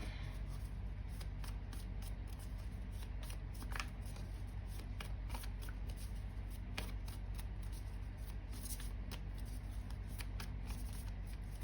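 Steady, close riffling and snapping of playing cards being shuffled over and over, a continuous papery flutter with no voices.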